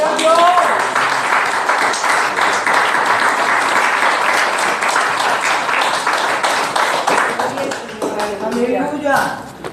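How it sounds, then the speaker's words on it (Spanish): A church congregation applauds during a Spanish-language sermon, dense sustained clapping from many hands filling the room for several seconds before tapering off as a voice returns. "Denle un aplauso a Jesús."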